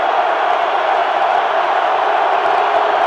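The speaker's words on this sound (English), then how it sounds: "Oh my gosh, that crowd is insane." A huge football stadium crowd roaring and cheering, a dense, loud, continuous wall of voices with no pauses or clear individual words.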